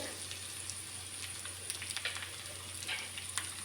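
Crushed pepper, cumin, garlic and chopped green chilli sizzle quietly in hot oil for a rasam tempering, a soft continuous crackle with faint scattered pops over a low steady hum.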